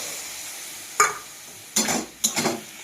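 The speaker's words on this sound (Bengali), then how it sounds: "দেখো সবজিগুলো ভাজা হয়ে গেছে, এবার আমি মশলাটা অ্যাড করে দেবো।" Vegetables for a potato, eggplant and fish curry stirred in a frying pan, with a steady low sizzle and three distinct scraping, clattering stirring strokes.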